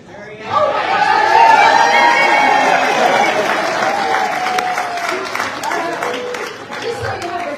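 An audience at a Henderson County Democrats candidates forum bursts into sustained applause that starts abruptly, holds strong for several seconds and slowly tapers, with some crowd chatter underneath.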